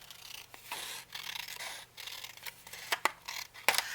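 Scissors cut out printed paper journal cards, with close, steady snipping and paper rustling, ending in a few sharper crisp cuts.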